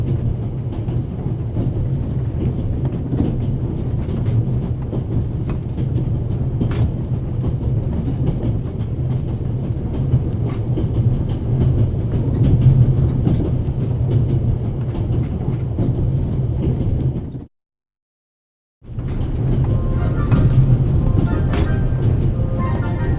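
Train rolling along rails in The Raven Remastered, a steady loud rumble with rhythmic low clatter that drops out briefly near the end before resuming.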